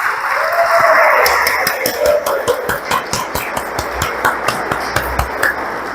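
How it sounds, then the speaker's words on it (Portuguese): A church congregation applauds the women, the clapping rising after a brief murmur and continuing as scattered, uneven hand claps from a room full of people, moderately loud and fairly close. "uma salva de palmas às mulheres"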